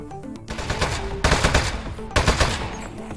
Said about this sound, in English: It is okay to shoot these appliances.